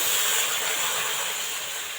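Water splashed into hot caramel in a wok produces a loud, close, broadband steam hiss that holds for about two seconds and fades slightly at the end, with no voices.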